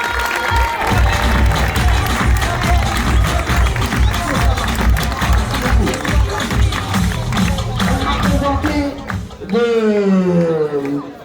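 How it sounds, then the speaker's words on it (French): Dense crowd applause and cheering at a hotel staff cocktail evening in Marrakech, sustained steady clapping from many people for a staff member, with a voice briefly over the noise near the end. "Mesdames et messieurs, j'aimerais vraiment qu'on applaudisse, qu'on le remercie, à l'instar de tout le personnel qui font un travail formidable"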